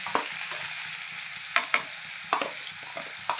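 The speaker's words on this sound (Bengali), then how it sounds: "দেখো তেলটা আমার গরম হয়ে গেছে, আমি পুরো মিশ্রণটা এর ভেতরে" A begun bharta mixture of eggplant, onion, coriander and garlic sizzles steadily in hot oil in a pan, while a spoon scrapes and stirs it in several short, sharp strokes.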